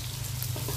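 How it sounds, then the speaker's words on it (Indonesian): Lemongrass, galangal, coriander, fennel and cumin frying in oil left over from frying chicken, giving a steady, close, moderately quiet sizzle without pause. "serai, lengkuas, ketumbar, jintan manis, jintan putih, semua kita goreng"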